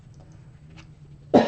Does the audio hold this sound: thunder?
no